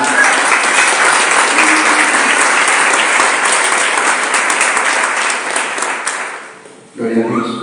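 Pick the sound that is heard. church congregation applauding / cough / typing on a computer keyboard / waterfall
church congregation applauding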